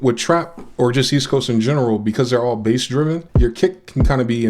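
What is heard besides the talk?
None of the usual background noises is heard.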